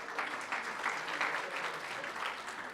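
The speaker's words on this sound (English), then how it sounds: "Let's give them a round of applause anyway" Applause from an audience at a 2017 Hawaiian Gardens State of the City event, a steady crowd clapping that holds at an even level through the whole short stretch, with no voices rising above it.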